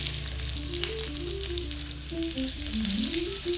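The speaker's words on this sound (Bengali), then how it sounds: "আর এখানে তেলে আমি দিয়ে দিচ্ছি জিরে," Cumin, ginger, garlic and onion frying in hot oil, a steady close sizzle with faint scraping, no voices.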